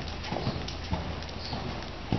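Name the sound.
horse hooves cantering during a riding lesson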